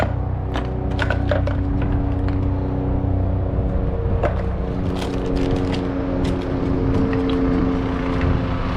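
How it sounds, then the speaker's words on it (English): A steady helicopter engine drone hangs overhead, with light clinks and knocks close by as items are handled in a storage unit. "Shout out to the helicopter going overhead"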